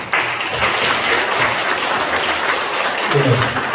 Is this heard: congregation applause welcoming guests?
yes